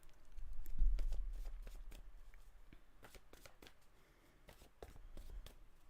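Oracle cards shuffled in repeated soft riffles and flicks, close but fairly quiet, with low rustling handling noise between them and no speech.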